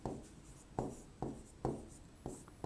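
Chalk or marker writing on a classroom board, heard as five or six separate firm strokes in an uneven rhythm, each a brief scrape starting sharply, fairly close and quiet, with no voice.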